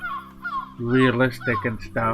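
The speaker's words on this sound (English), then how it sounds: "The sounds you are hearing in the background are seagulls because we are so close to the sea and the waves as" Seagull cries from a seaside area in Minecraft with the Conquest Reforged mod, a few harsh calls heard briefly before and under someone talking.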